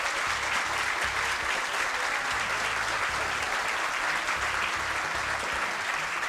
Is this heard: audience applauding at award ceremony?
yes